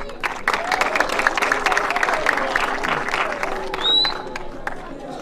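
A crowd applauds an award recipient with continuous dense clapping and some cheering, while voices talk underneath and a brief high whistle-like tone rises near the end.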